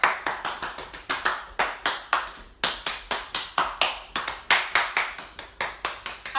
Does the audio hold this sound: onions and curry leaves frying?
no